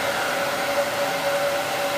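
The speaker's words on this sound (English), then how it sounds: "It's just a really nice, kind of strong, old school blow dryer. Nothing fancy to it, just blows hot air really fast." An Elchim blow dryer, a strong old-school model, blows hot air in a steady, loud whooshing roar with a constant motor whine, close by and alone.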